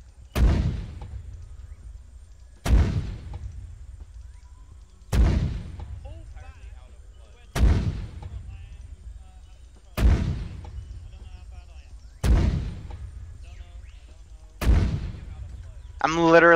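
Mortar rounds in a Vietnam War video game on an island compound: seven heavy booms spaced about two and a half seconds apart, each decaying into a long rumbling tail, with a short burst of other sound at the very end.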